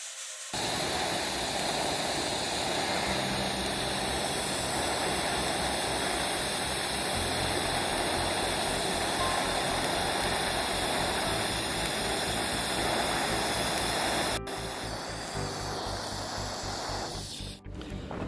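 Close, loud, continuous hiss and crackle of TIG welding a lap joint on 6mm steel plate, steady for most of the stretch before briefly cutting out and resuming near the end.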